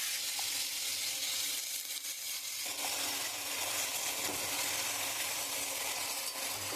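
Malabar spinach tossed into hot oil and fried spices gives a steady, loud sizzle with faint stirring clinks, no voices.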